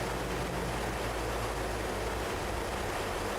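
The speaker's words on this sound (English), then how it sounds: "these jet engines sounds a lot" Jet engines in the naval combat game From the Depths give a steady, dense roar that holds at an even level throughout, with no voices over it.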